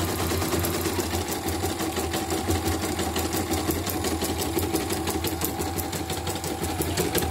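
An embroidery machine being test-run before its cover is closed, a loud, continuous, fast mechanical chatter with a steady rapid stitching rhythm and motor hum, heard alone and close up.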